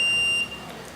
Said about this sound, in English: So whenever any obstacle is there, you can hear the beep sound.